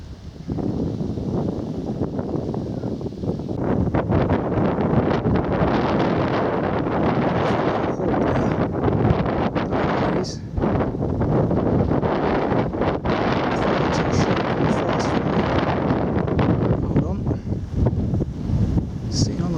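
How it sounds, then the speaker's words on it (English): Strong wind buffets the microphone throughout a country walk on the hillside at Pewsey White Horse in Wiltshire, a loud continuous roaring rumble that barely eases, with a voice faintly under it. "it's a little bit too breezy for a decent video"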